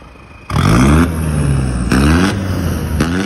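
A modified pickup truck engine revs hard three times in a row. Each blip rises sharply and then settles back to a loud, throaty idle close by.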